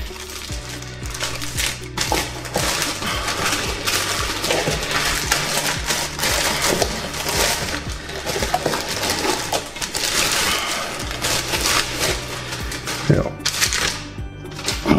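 A heavy cast iron lid of a Weber Dutch oven for the Gourmet Barbecue System is unpacked, with rustling packaging and dull metallic knocks and clunks, while someone talks throughout.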